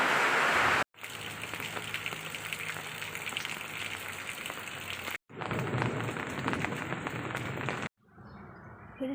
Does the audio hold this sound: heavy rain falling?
yes